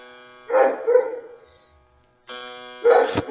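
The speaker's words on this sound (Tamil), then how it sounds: "நாய்கள் எல்லாம் குலைக்க ஆரம்பிக்குது" Dogs barking at night around 1 a.m., two separate bursts of several barks each, fairly close, with a steady tonal hum in the quiet background.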